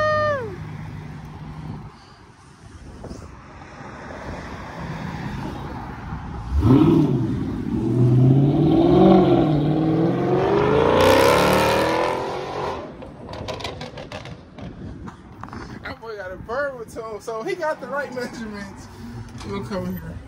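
A Dodge Charger SRT 392 being repaired after a crash pulls out and accelerates, its engine swelling into a loud rising rev in the middle before settling, with people talking nearby throughout.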